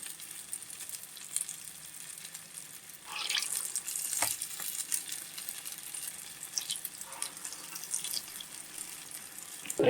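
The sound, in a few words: purnam boorelu frying in hot oil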